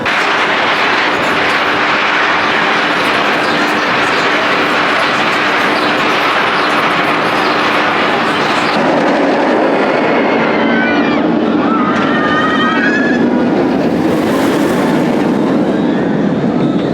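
Riding the Shambhala roller coaster at PortAventura World brings a loud, continuous roar of rushing wind and rumbling track, with riders' screams and shouts breaking through near the end.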